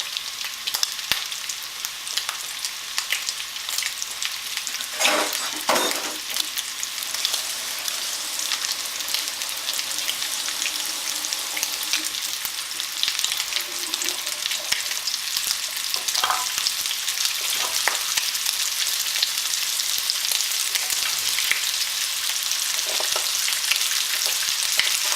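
Onions frying in a hot pan, a steady close hiss and crackle that runs the whole time, with occasional louder stirring scrapes and no talk.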